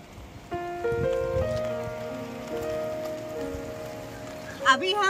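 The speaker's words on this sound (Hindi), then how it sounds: "बारिश बहुत तेज हो गई है" Heavy rain falls on a mountain road near Sethan outside Manali, a steady hiss against a droning background of sustained tones, with a brief voice near the end.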